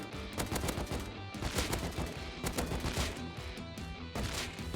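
Rapid bursts of AK assault rifle fire in the video game Rust crack repeatedly in quick succession, loud and close, with short pauses between volleys.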